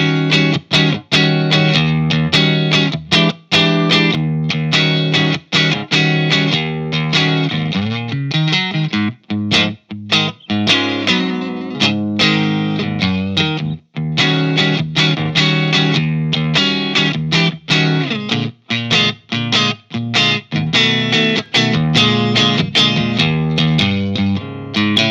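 Electric guitar played clean through Gibson GA-15RVT and Vox AC-15 tube amplifiers: a continuous run of strummed chords and picked notes with a short, rhythmic attack, loud and close, with no voices.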